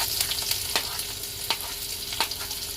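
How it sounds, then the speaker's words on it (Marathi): Onion tipped into curry leaves frying in hot oil for an aloo matar cauliflower curry, with a steady sizzle and a few sharp stirring scrapes spaced about a second apart, close and fairly quiet. "आपण त्याच्यात कढीपत्ता टाकूया, मग कांदा घालूया।"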